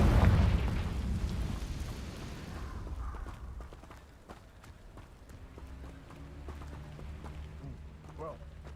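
A Confringo blasting curse explosion in Hogwarts Legacy, a loud booming burst at the start fading into rumbling debris and scattered clatter, with a voice speaking over it.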